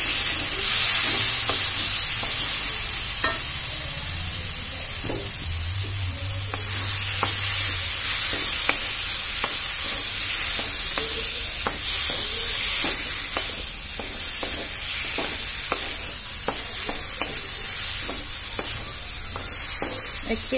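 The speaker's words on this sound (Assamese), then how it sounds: "ভালদৰে ভাজি লওঁ" Mashed boiled potatoes frying in a pan, a steady close sizzle with stirring scrapes and scattered clicks of a utensil throughout, no voices.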